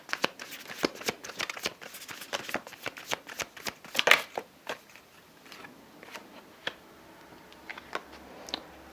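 Tarot cards being shuffled by hand, with a run of crisp, close papery riffles and flicks in an irregular rhythm, including one denser burst partway through, heard alone with no talk.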